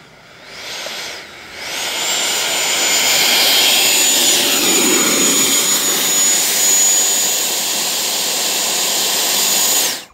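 An RC F-16 jet with a 90mm electric ducted fan on an 8S setup runs in reverse thrust, giving a loud, sustained high-pitched whine that spools up after a brief quiet start and holds nearly ten seconds before cutting off.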